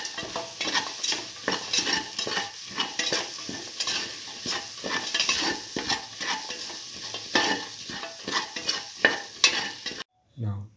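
A spoon stirs and scrapes through tomato, mint leaves and salt in a metal cooking pot, with repeated sizzling scrapes and clinks at an uneven rhythm, close up, before a brief pause and a final scrape.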